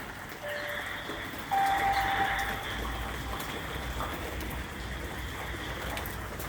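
Rain falling steadily on a rainy day among flowers, a continuous broadband patter that thickens slightly partway through, with a faint tonal whine in the background and no talking.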